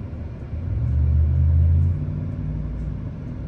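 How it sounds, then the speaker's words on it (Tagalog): Inside a moving car, a low engine and road rumble swells in the middle and then settles into a steady drone. No one speaks. "Dito lang ako sa loob ng sasakyan."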